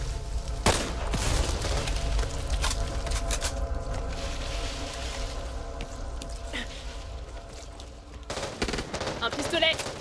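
Rapid automatic gunfire in the Back 4 Blood co-op zombie shooter, with dense close bursts at the start, a steadier rattle through the middle and a fresh flurry of sharp shots near the end.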